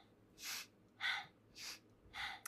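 Breathing in a lymphatic kriya exercise: four strong, evenly spaced breaths, alternating inhales and exhales, close and clear with quiet gaps between.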